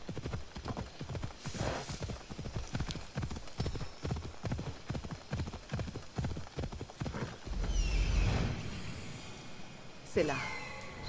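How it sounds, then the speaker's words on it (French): Horse hooves clip-clopping at a steady galloping rhythm in a video game, regular close beats running for most of the stretch before a brief snort-like burst and a whinny near the end. "Mon cheval s'il te plaît, reviens."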